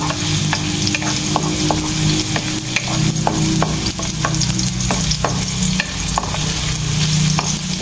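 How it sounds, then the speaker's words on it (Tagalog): Garlic sautéing in a pan until golden brown, a continuous close sizzle with a steady run of scraping, tapping stirs throughout. "So igisa-gisa lang natin hanggang sa mag-golden brown."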